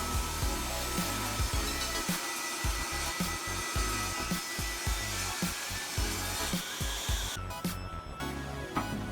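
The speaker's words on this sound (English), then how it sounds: "I could then run the freshly jointed edge along the fence and cut a parallel edge" A power saw rips a freshly jointed maple or walnut board along the fence, a loud sustained whine with rough, pulsing cutting texture that drops away near the end, close and alone.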